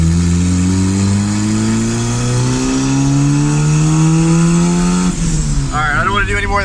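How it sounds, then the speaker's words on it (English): A turbocharged Honda Civic with a D16 engine revs hard and climbs steadily in pitch, loud and close, then drops off at the end with a sputter as a voice speaks over it. "It used to rev up pretty high with this big turbo"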